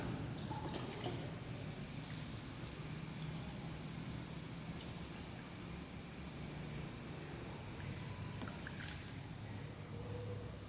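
Water is poured over a body during a ritual washing of the dead, giving a steady, continuous splashing wash that stays even and unbroken throughout, with no speech.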